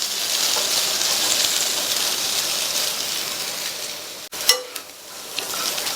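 Plantain stir-fry sizzling steadily in a pan as it is cooked and gently turned with a wide spoon, a soft continuous hiss broken near the end by a sharp clack and brief scraping.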